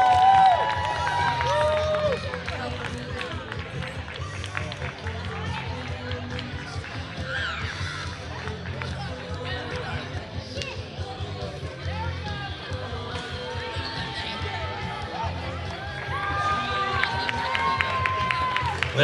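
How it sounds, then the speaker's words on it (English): Crowd applause and cheering at an outdoor Halloween costume contest in Temecula, greeting a Mary Poppins family group; steady moderate clapping runs under an amplified announcer's voice for the whole stretch, swelling slightly at the end. "Big round of applause for the Mary Poppins family."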